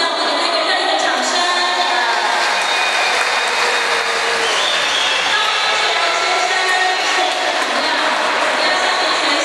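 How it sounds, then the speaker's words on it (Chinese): Steady, dense applause from a crowd at a swimming meet, honoring an 80-year-old swimmer who has just climbed out after the men's 200 m breaststroke, sustained and loud throughout without a break. "我们给他一个热烈的掌声"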